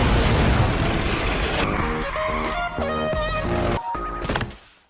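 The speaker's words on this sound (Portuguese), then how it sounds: "Não ouviu uma explosão dessa?" An explosion in the Max Steel animated film booms loudly and rumbles on for several seconds amid dense action sound effects and a tonal musical score, then fades out.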